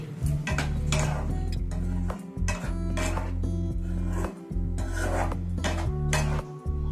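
Salted chicken stirred in a cooking pan, a loud continuous scraping and rasping of a utensil against the pan with steady rhythmic strokes and a sustained background hum.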